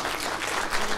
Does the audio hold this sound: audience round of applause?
yes